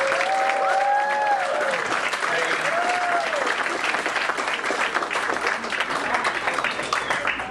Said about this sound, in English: Let's bring up the cast up here on stage. Give them a round of applause.